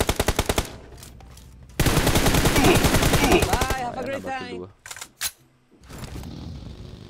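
Rapid bursts of automatic gunfire in PUBG Mobile rattle loudly, a short volley then a longer sustained stream, followed by scattered shots and clicks.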